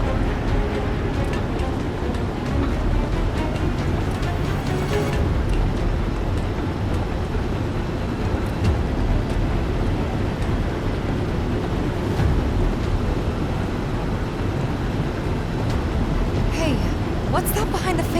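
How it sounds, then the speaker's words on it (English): Giant industrial fans in Final Fantasy VII Remake blow a steady, loud roar of wind that holds constant for the whole stretch, a dense broadband rush with no pauses. "these fans are really loud"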